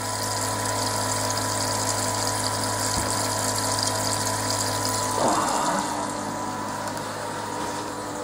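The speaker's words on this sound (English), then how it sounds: "that is the hot water coming out from the counterflow" Hot water pours out of a counterflow wort chiller during a dunkelweizen brew in a steady, loud rushing flow, layered over a constant pump hum, with one brief swell partway through.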